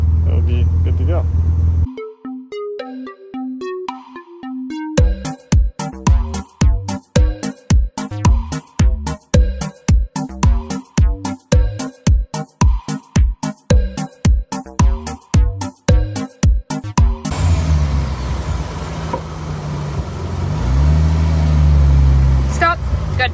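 Car engine idling during an oil change: a steady running tone, then a long stretch of regular rhythmic pulses, then a rougher, steady running noise near the end, fairly loud and close.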